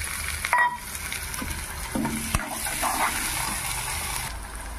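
Lentils sizzle steadily in a hot pan, a continuous near frying hiss with a few brief stirring clatters and a sharp knock partway through, no voices.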